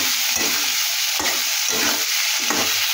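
Loud, continuous frying sizzle from a pan of small fish with salt and turmeric, broken by several regular scraping strokes as the food is stirred.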